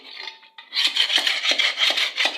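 A hand tool scrapes and rubs across an apartment wall surface, a close, steady rasping with repeated strokes after a brief quieter start.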